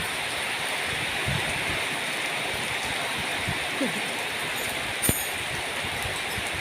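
Heavy rain falls in a steady, loud hiss that fills the whole scene, with a few faint thumps and one sharp knock standing out briefly.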